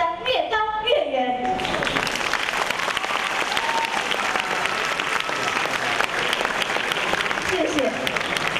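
Loud, sustained applause fills a school cultural night hall, a dense wash of many hands clapping steadily after a brief moment of speech at the start.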